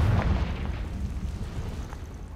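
A single booming Confringo blasting spell explosion in Hogwarts Legacy, a heavy low thud at the start that rumbles and fades over about two seconds, alone with no talking.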